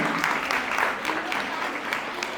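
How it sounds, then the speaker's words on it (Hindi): Loud applause from an audience at a school cultural programme, a steady dense wash of clapping held at even strength throughout, with no voices standing out. "नीमा जी के लिए जोरदार ताली।"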